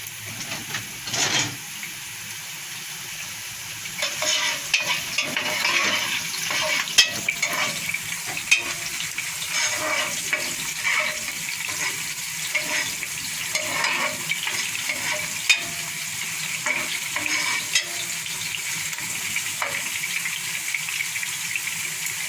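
Onions frying in hot oil in a pot for egusi soup, with a continuous sizzle and repeated spoon stirring and scraping, close and steady throughout.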